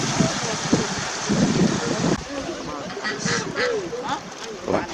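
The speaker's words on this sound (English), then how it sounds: "Ducks are all waiting for the action." Ducks quack at a waterfall in Seogwipo on Jeju Island, South Korea: several nasal calls scattered over a few seconds against a steady rush of wind and water.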